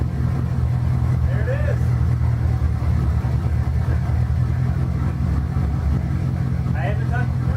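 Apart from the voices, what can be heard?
Pontiac Firebird Trans Am engine starting and idling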